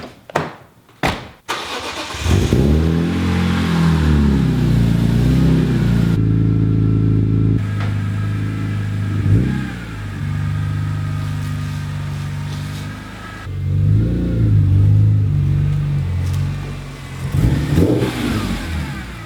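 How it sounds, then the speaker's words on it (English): BMW M3 engine fired up and revved while the car is turned around, opening with sharp starter bursts, then sustained rising and falling revs with several throttle swells, loud and close with no talk. "So I'm gonna go ahead and get this car turned around."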